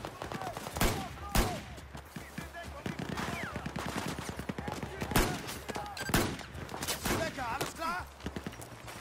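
Rapid bursts of gunfire from the video game Battlefield 4 crack out repeatedly over a busy battle din, with several sharp loud shots standing out among continuous combat noise while someone talks over it.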